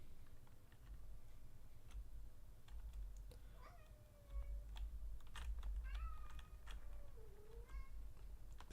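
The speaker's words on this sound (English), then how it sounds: "cat is really howling." A cat howls and meows several times in drawn-out cries over a quiet room, mixed with soft computer keyboard typing and clicks close by.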